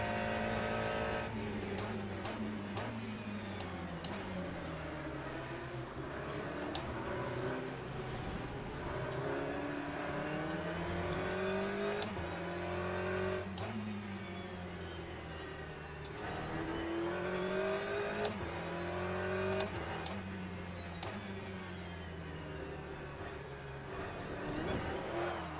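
Ferrari and Porsche race cars battle in a racing video game, with several engines howling and shifting pitch as they rev up and down, and brief tire squeal in a steady, loud mix with no talk.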